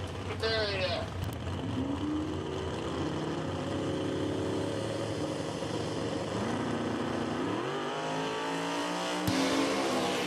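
Drag racing cars launching off the starting line at a cash-days drag event, engines revving and roaring with rising pitch as they pull away, loud and continuous under an announcer's commentary.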